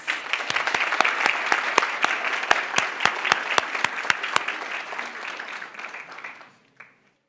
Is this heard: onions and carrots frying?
no